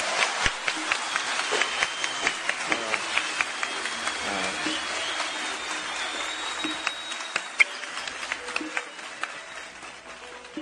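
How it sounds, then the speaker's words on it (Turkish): An audience applauds at a live broadcast after a young Canadian man converts to Islam, a sustained wash of clapping from many hands, loud and steady with a few sharper claps standing out. "Bu alkışı hak ediyor."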